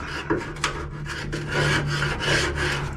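A putty knife or screwdriver scrapes thick grease off the hood jam of a 1970 Buick Wildcat, close rasping strokes with a couple of sharp clicks early, then longer grinding scrapes over a low steady hum.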